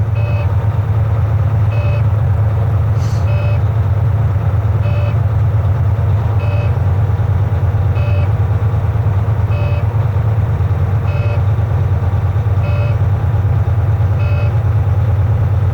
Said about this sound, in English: the buzzer and the light should go off again